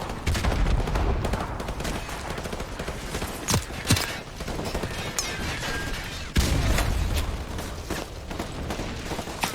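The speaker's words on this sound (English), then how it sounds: "Soap mops them up with an MP5." MP5 submachine gun fire in Call of Duty Modern Warfare Remastered, sharp bursts of rapid shots cracking out amid a dense, noisy battle din, with a few louder close reports standing out.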